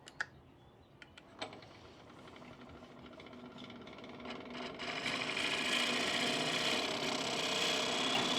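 A small 3/8 bowl gouge with a 40/40 grind takes light finishing cuts on a wooden bowl spinning on a lathe, a steady close scraping hiss that thickens and grows louder partway through, with a few sharp knocks near the start.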